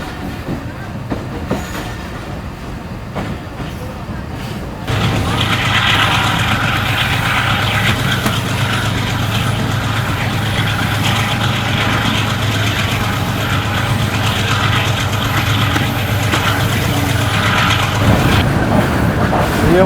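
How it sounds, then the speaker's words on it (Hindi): The 145 Sukkur Express train passing close by, a sudden loud, sustained roar of rolling wagons and rumbling wheels that holds steady for about fifteen seconds after a quieter start. "कराची से चलने वाली आखिरी गाड़ी, यानी कि 145 सक्कर एक्सप्रेस आ रही है इससे बिल्कुल हमारे सामने से"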